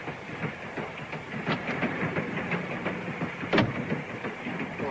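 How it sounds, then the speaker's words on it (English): A European passenger train in a 1952 film set around Trieste runs with a continuous rolling rumble and faint rhythmic clatter from the wheels, plus a brief sharper knock near the end. "Nothing unusual for a European train."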